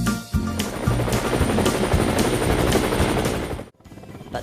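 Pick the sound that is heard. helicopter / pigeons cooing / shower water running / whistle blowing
helicopter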